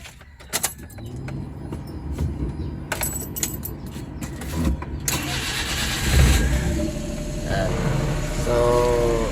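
A car engine cranks and catches with the clutch pedal pressed in and a stiff clutch, followed by a steady idle; a few clicks and key jangles come at the start, with someone talking briefly over it.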